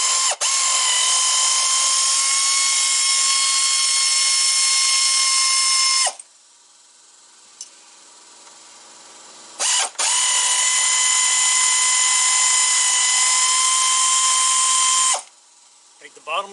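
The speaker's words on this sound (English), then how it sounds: "I'm going to use an air tools" Air tool working hinge pins out of a 1996 Jeep Grand Cherokee driver's door, a loud high-pitched whine in two long bursts of about six seconds each, separated by a quiet pause with faint clicks.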